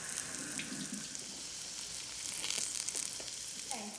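Frog legs frying in hot butter in a pan give a soft, continuous sizzle with faint crackles, quiet and close, with a brief clink near the end.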